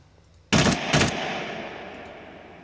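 A weapon in the video game SCUM fires two loud, close gunshots in quick succession, followed by a long fading echo.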